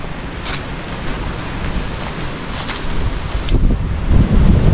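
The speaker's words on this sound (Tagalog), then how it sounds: "nakakatakot yung hangin talaga" Strong typhoon wind roars steadily and loudly against the microphone, with gusts building toward the end and occasional rustling bursts through nearby trees.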